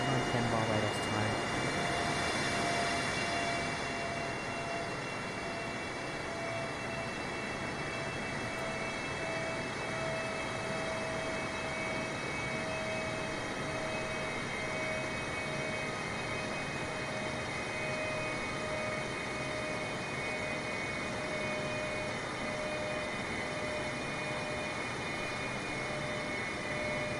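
Constant broadband cabin drone of a British Airways Boeing 747-8i cruising at 36,000 feet in Microsoft Flight Simulator, a steady even roar with faint tonal hums and no break.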